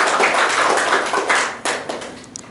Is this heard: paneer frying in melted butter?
no